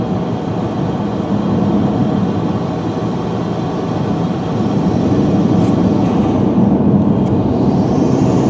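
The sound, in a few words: Chevrolet Cruze engine surging while driving in snow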